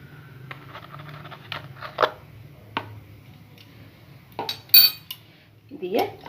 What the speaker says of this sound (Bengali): আমি আবারও ভালো করে নাড়িয়ে নিচ্ছি